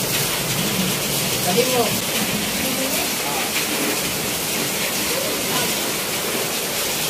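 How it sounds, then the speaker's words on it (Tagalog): Heavy rain pours down outside a house, a dense, loud, steady rush of water that fills the whole stretch, with a brief spoken phrase heard over it. "Kaso lang, medyo malakas ang ulan."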